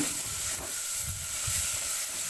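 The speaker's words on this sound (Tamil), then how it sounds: "தக்காளியும் இதில் போட்டு நல்லா வதக்குங்க" Chopped onions and tomato sauté in a pan for a stingray fish curry, giving a steady close hiss and sizzle with soft, periodic stirring thumps underneath.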